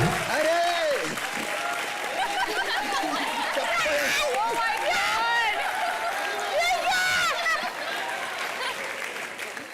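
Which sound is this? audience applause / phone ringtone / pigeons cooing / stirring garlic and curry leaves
audience applause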